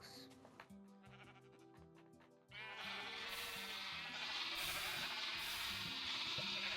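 Sheep in a blocky PvP video game bleat over a run of short game sound effects, then the bleats sit under a louder, dense wash of game noise for the rest of the stretch.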